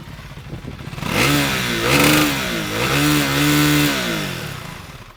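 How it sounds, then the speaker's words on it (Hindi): Exhaust note of a 2024 KTM 390 Duke motorcycle, its single engine revved up and down in rising and falling swells that hold steady, close and fairly loud, with no talking. "मैं आपको इसकी एग्जॉस्ट नोट की आवाज़ सुनाना चाहता था, जो कि अब मैंने आपको सुना दी है"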